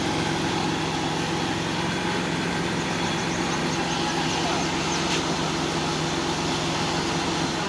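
A generator kept running at a madrasa to cover frequent power cuts hums steadily nearby with a constant engine drone and no pauses.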